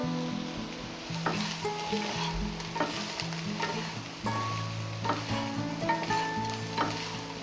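Bitter gourd fries in a pan for pickle, a steady sizzle carrying repeated spoon scrapes and metallic clinks at irregular intervals, close and moderately loud with no talking.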